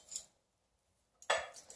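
Metal cutlery, a fork, knife and spoon, is set down at a spring table setting, giving a brief clink, a pause of quiet, then a louder clatter of silverware up close.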